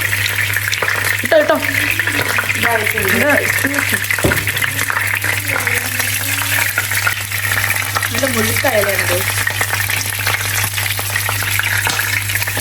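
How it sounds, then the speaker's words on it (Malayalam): Fish frying in oil with curry leaves for Kerala-style meen pollichathu, a loud continuous sizzle and crackle throughout, with a person talking over it. "ഇനി നമുക്ക് ഫിഷ് നന്നായിട്ട് വറുത്തെടുക്കാം."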